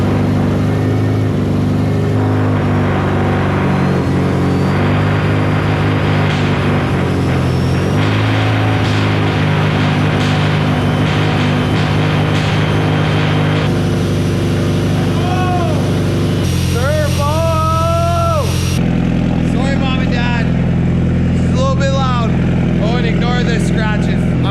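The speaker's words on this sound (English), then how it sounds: "Turbo noises." A 500 hp Subaru STI with a misfire problem idles at cold start, a loud, steady engine drone with turbo whistle and whine. The pitch shifts partway through, and a voice talks over it.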